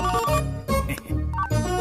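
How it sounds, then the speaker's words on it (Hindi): A mobile phone ringtone plays a bright repeating melodic pattern in short bursts, loud and close, with no voices over it. "रिंगटोन भी मुझे उसकी टोन में सुनाई दे रहा"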